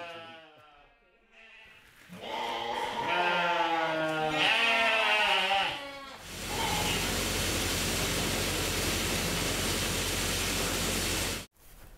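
Sheep on a small island bleat several times in a clear, wavering series at moderate distance, followed by a steady broadband rush of wind or water noise.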